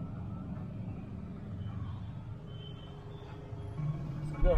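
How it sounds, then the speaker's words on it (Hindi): A Bangalore traffic jam produces a steady low rumble of idling and creeping cars, trucks and buses, with continuous engine drone and faint distant road noise. "See, you get off from one jam and you will get next jam. So this is Bangalore's traffic"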